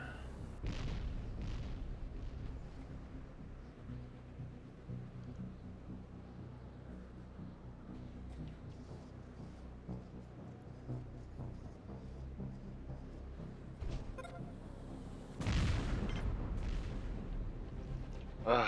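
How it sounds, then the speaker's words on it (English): Heavy meteorite impacts thud down near a colony base in the Planetbase game during a blizzard, low rumbling booms rolling through a steady windy roar, with a louder, closer strike near the end. "these meteorites are uncomfortably close"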